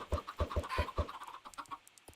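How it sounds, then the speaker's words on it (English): Chickens cluck in a farming video game, a quick run of five evenly spaced clucks followed by softer scattered clucking, close and moderately quiet. "Chickens galore! More chickens."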